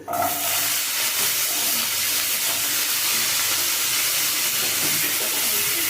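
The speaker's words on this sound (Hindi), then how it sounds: "हमारे तेल भी गर्म हो चुकी है अच्छे से। यहाँ जो हम कट करके रखे थे जो आलू उसको डाल देंगे।" Cut potatoes sizzle steadily in hot oil, a loud, continuous hiss of frying that fills the whole stretch with no talk over it.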